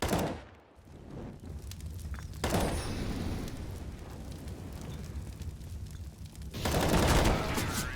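Loud bursts of gunfire in the video game CS:GO, one heavy volley at the start and another near the end, with a quieter stretch of game noise between them.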